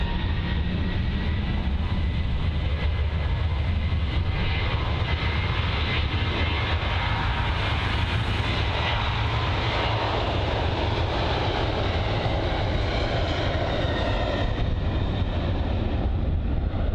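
A TUI Boeing 737 departing Bristol Airport roars continuously with loud jet engine noise, a broad steady rush that swells and shifts slightly as the plane climbs away, with no talking.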